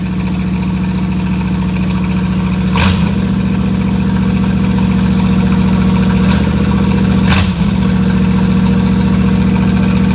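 An engine idles steadily after a new battery install, a constant low drone with two brief louder surges partway through, close and alone with no talk.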